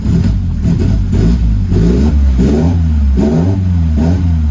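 A Lotus Elan engine runs loud and close at a rumbling idle, then rises in repeated short throttle blips, each revving up and falling back.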